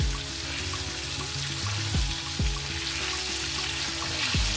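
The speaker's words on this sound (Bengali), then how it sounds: "এভাবে করে ভেজে নেব" Chicken pieces frying in oil make a steady, close sizzle with bubbling and occasional sliding pops; no talking.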